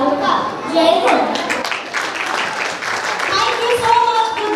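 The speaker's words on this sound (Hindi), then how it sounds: "तो आइए तालियों के साथ स्वागत करें हमारे छोटे सितारों का" An audience at a school annual cultural fest applauds to welcome child performers, with steady, dense clapping mixed with crowd voices and children talking.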